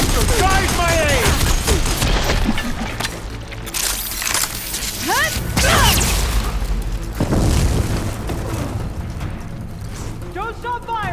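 Gunfire and booming explosions from a battle in the video game Horizon Burning Shores, loud and close, with shouting voices and machine calls over the din.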